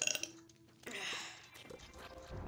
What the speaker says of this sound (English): Keep burping today.